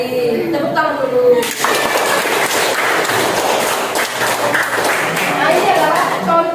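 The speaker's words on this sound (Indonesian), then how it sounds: "Tepuk tangan dulu." Students in a classroom break into a burst of clapping after a teacher's cue, a dense patter of many hands that runs for about five seconds, with a voice briefly heard just before.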